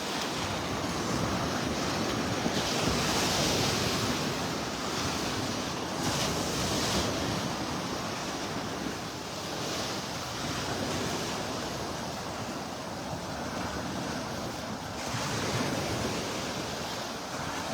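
Waves and surf at the south end of a park beach where sea turtles nest, a continuous close wash of breaking surf with periodic swells, plus wind buffeting the microphone.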